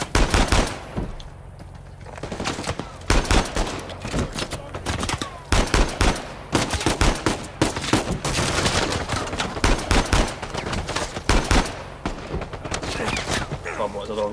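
Rapid bursts of gunfire from a sniper shootout in the Uncharted 4: A Thief's End video game, loud and repeated throughout, with a voice heard faintly underneath.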